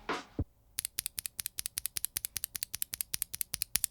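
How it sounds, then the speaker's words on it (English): Rapid typing on a Gazzew Boba U4T Nixdork keyboard switch topped with a GMK keycap: a fast, even run of crisp, close clacks after a short brush of noise at the start. "Here is the sound of a Nixdork with a GMK keycap on top."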